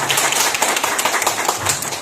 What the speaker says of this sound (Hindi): एक जोरदार तालियों से हमारे सीएमओ साहब का स्वागत किया जाए